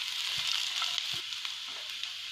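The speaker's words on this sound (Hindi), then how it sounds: "तो मैं काजू के साथ में ऑनियन को और एक मिनट तक भून लेती हूँ।" Onions frying with cashews in a pan for a rich shahi paneer gravy, a steady close sizzle with a few soft stirring scrapes and no talking.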